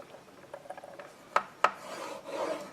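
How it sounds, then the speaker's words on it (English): Paper scored for a pleated fold, a scraping rasp of strokes with two sharp clicks midway and a longer scrape at the end, close and alone. "that's quite a bit of scoring to do"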